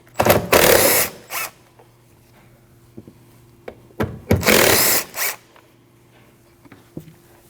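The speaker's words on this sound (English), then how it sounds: "Then remove two 8mm bolts." Two 8mm bolts are backed out of a 2013-2019 Ford Escape rear bumper with a power tool in two loud whirring bursts, separated by light clicks and handling sounds.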